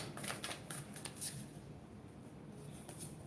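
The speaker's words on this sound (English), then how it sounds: "let me shuffle a little bit" A deck of cards being shuffled during a game, with repeated crisp riffling bursts that come close and fairly loud over a steady low room hum, and no talk.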